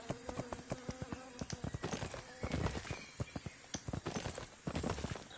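Horse hooves clip-clop in steady, rapid rhythm in the My Little Riding Champion video game, loud and close, with an occasional whinny over game sounds.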